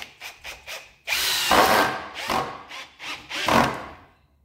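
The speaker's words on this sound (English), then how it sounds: "M12 coach screw, and a handful of bits to drive them in." A brushless 18V 60Nm Ozito hammer drill drives an M12 coach screw into wood, with short bursts of whirring then a long, loud grinding run as the screw bites in, easing off and surging again near the end.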